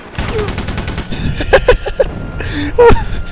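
Gunfire in the Rogue Warrior video game, quick sharp shots in a short cluster over a steady background, with someone talking in between.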